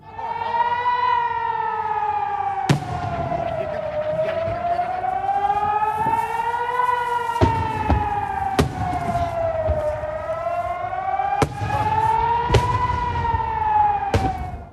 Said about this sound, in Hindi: इस समय यहाँ हर तरफ धमाकों और सायरन की आवाजें गूंज रही हैं